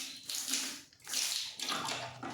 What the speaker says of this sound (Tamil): இருக்க தண்ணி அப்படியே ஊற்றி விட்டாச்சு